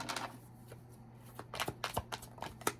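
Tarot cards being shuffled by hand, a soft papery riffle and a run of quick flicking slaps that grow busier toward the end, close and fairly quiet with no voice.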